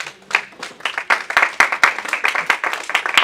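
A church congregation at a Cenacle gathering breaks into rhythmic, sustained applause, many hands clapping together in a loud, steady round that fills the room.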